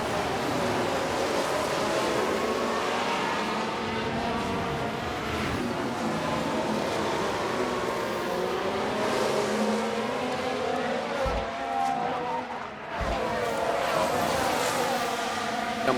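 F1 cars launch off the grid for a sprint race in Baku in F1 Manager 23, a dense, steady engine roar from the pack that shifts in pitch as the cars accelerate, with brief low thumps.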